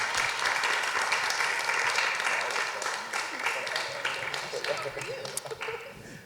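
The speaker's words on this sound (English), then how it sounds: "Can we get a round of applause one more time for this beautiful panel?" An audience claps for a panel at a talk event, a full burst of applause that gradually thins into scattered claps, with a faint voice emerging near the end.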